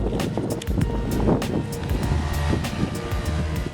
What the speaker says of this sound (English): Working outboard.